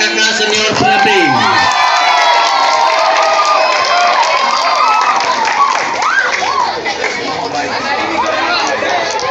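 A school crowd at the closing ceremony of student orientation at a state vocational high school erupts in loud, continuous cheering, shouting and some clapping, with excited voices calling out throughout.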